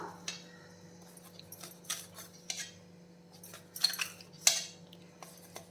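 A knife cuts an egg adai into small pieces on a plate, making several light, irregular taps and scrapes that ring out clearly against a steady low hum, with no voices.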